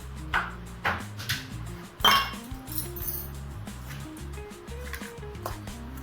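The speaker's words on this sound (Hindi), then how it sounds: "तो चलिए सारे कुछ को अच्छे से मिक्स कर लेते हैं।" A spoon clinks against a pan while a Chinese-style dish seasoned with salt, black pepper and sauce is mixed; several sharp metallic clinks and scrapes come close up, with no talking.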